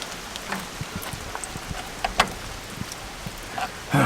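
Steady rain patters throughout with scattered drops and taps, moderately close, ending with a louder burst of noise.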